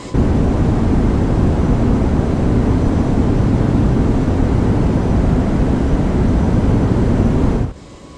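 Steady, loud roar of Airbus A321neo engines spooling up for takeoff on a runway in X-Plane 12, a broad continuous rumble that cuts off abruptly near the end.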